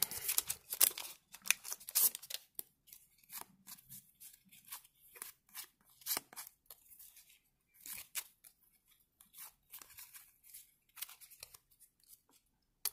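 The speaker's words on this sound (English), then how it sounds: "I'm going to use some of the scissors." Scissors snip and crunch through stiff packaging of a Panini trading card box in irregular bursts, with rustling and tearing between cuts, close up and alone.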